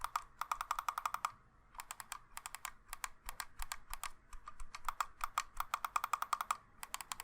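The side buttons on a Drevo Falcon wireless gaming mouse being clicked in quick bursts, sharp crisp ticks in rapid runs separated by short pauses, close and quiet with no talking.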